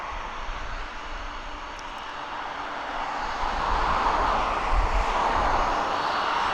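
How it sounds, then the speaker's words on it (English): A jumbo jet on approach to East Midlands Airport, a broad distant roar of jet engines that swells gradually louder, with no talking. "in the distance I could see the jumbo on approach"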